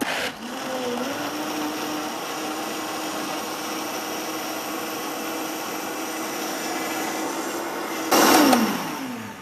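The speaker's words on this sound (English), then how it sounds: "now you want to blend it as you're watching in the Vitamix" A high-powered Vitamix blender whirs steadily at a constant pitch blending walnuts and water, loud and close, then briefly surges louder near the end before cutting off.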